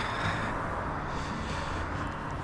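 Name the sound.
car road noise while driving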